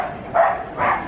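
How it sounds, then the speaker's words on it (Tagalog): A dog barks twice outdoors, two short, fairly loud yaps about half a second apart, with no talk over them. "Aso na lang maingay."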